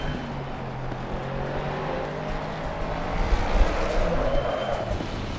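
Engine of a 550 HP Mustang GT3 race car while driving on track, a steady sustained drone that swells slightly louder and rougher in the middle, with no talking.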